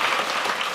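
Dense, continuous applause from a church audience, loud and close, a short unbroken wash of many hands with no voices over it.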